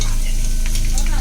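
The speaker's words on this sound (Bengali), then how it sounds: "হালকা করে ভাজি করছি, বেশি গাঢ় করে ভাজি করি নাই।" Chicken frying lightly in hot oil for a chicken and egg biriyani gives a dense, close, continuous sizzle over a short moment.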